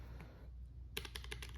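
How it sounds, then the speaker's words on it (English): A Keychron K3 low-profile wireless mechanical keyboard with tactile switches is typed on in a quick run of crisp, close clicks after a short quiet start. "I'm really liking this tactile keyboard"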